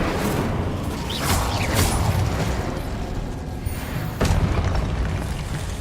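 Incendio fire spell in Hogwarts Legacy gameplay erupts as a rushing whoosh with booming bursts, swelling and then sounding again as a sharp crackling blast, loud and alone with no talk.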